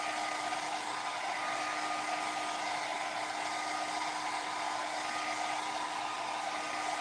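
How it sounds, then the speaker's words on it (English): A hair dryer blows steadily and close up, speeding the drying of a freshly applied aged oak patina finish on wooden furniture, a continuous even whir with no talk. "We're just having to use the hair dryer for"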